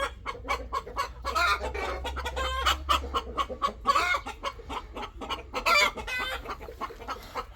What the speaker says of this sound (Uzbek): Mana shu tovuqlar do'stlar.